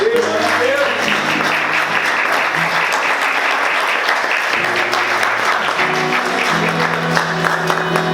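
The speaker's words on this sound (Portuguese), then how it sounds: "Pode aplaudir Jesus?" Applause fills a church service, a congregation clapping continuously and loudly while a musical tone holds underneath and faint voices mix in.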